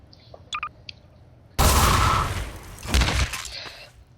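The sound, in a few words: rapid gunfire in the video game GMod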